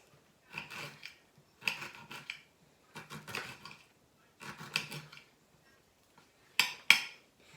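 A knife trims the rough edges and brown bits off a thin slice of fresh pineapple, making five short bursts of close cutting and scraping against a board, with quiet gaps between strokes.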